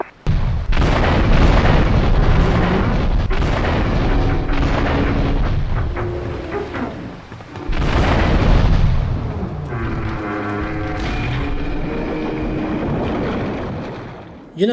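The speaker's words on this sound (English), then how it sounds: "the early 2000s giant game area explosion is an underappreciated art" Giant in-game explosions rip through a harbor area in GTA III, loud, booming blasts with long rumbling tails, a second big blast midway, then a rushing, roaring aftermath like wind and fire.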